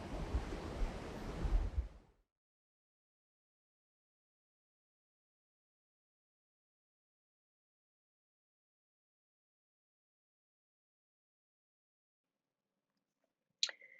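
Ocean surf washing ashore, a steady broadband rush of close waves lasting about two seconds before cutting to silence, then a brief faint knock near the very end.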